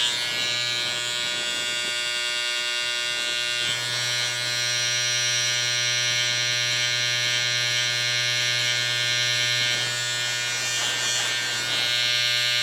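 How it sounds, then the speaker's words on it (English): Electric hair trimmer buzzing steadily and close up for the whole stretch as it cuts hair during a buzz cut, a constant high whine with slight shifts as the blade moves. "now we're gonna go in with the trimmer to take out that line completely"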